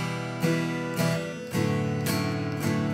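A guitar plays a practiced song, with chords struck about every half second in a steady rhythm. It sounds close and clear, with no talking.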